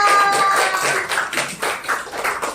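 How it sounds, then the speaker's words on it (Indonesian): Children in a classroom clap for a classmate, a brisk scattered patter of many hands, close and moderately loud, fading slightly toward the end. "Oke, tepuk tangan buat Zahira."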